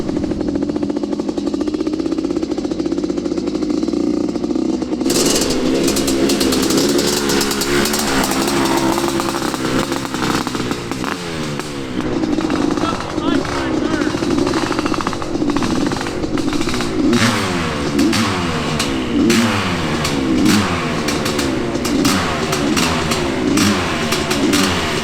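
A worn-out Honda CR500 two-stroke motorcycle roars at high revs throughout, loud and close. It opens with a steady blare, then the rider dumps the clutch and the engine bogs and pulses unevenly as he launches.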